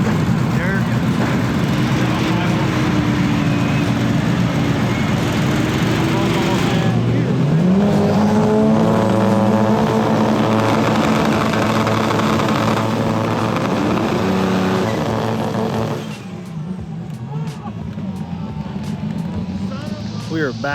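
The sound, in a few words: 800hp turbo Honda Civic drag racing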